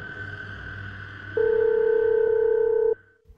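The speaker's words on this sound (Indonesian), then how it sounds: "Telepon Pak Ian aja lah." Telephone in a horror cartoon places a call: a steady dial tone plays under a low hum, then a loud, sustained electronic ringback tone holds for about a second and a half before stopping.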